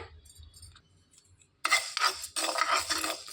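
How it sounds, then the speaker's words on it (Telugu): Seeds rattling and clinking against a pan and spoon while fenugreek and mustard seeds dry-roast, quiet at first, then a loud burst of scraping and stirring clatter from about halfway in. "ఇందులోనికి ఒక టేబుల్ స్పూన్ మెంతులు రెండు టేబుల్ స్పూన్ల ఆవాలు వేసుకొని వేయించుకోవాలి"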